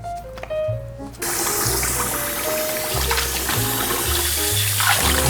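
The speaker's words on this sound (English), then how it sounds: "we're gonna rinse this up one more time" Running water pours steadily over cut squid in a kitchen, a constant splashing rush that starts after a brief quieter moment.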